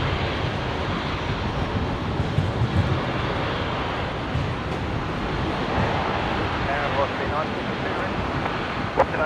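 An airliner roars at Brisbane International Airport as it takes off, a loud, broad engine rumble and rush that holds steady through the whole stretch.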